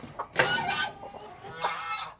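Hens cluck repeatedly around a coop, several fowl calling in short bursts and a few louder squawks, fairly close, with no talking.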